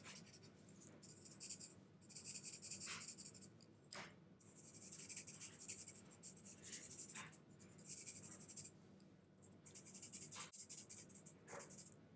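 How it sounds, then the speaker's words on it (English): A colored pencil shades on paper with light to medium pressure, using the side of the lead, giving steady bursts of soft, hissing scratching strokes close up, separated by brief pauses, with no talking. "just nice light, medium pressure using the side of your color pencil, filling this in"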